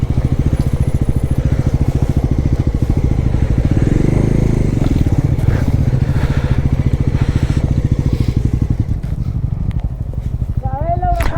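A Bajaj Pulsar N160 motorcycle labours up a steep climb with sharp turns on a ride in Nepal. The engine pulses loud and close throughout, with a brief squeal near the end.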